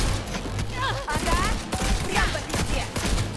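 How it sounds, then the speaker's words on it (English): Rapid bursts of gunfire from shooting in the video game Cyberpunk 2077 crackle in dense, repeated volleys, with someone talking over the shots. "let me do some shooting"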